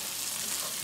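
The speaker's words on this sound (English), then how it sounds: "Oh, that's a good sizzle." Spaetzle toasting in hot olive oil in a pan give off a steady, close sizzle that stays even throughout, with no talking.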